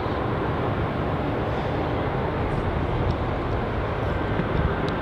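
Airliner bound for Sydney at Melbourne Airport, holding near runway 27. Its engines give a steady, loud, broadband roar that stays constant throughout, with no voices.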